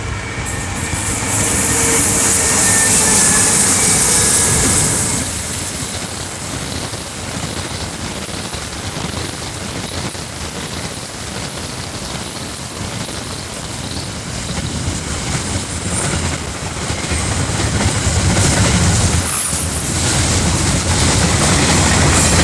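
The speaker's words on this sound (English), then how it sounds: "Then a pair of EFs passing Hamilton Station with train 225." Two EF class electric locomotives haul a freight train past Hamilton Station, a loud continuous rumble and clatter of wagons rolling by close, swelling at the start and end with no talk.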